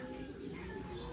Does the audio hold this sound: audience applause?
no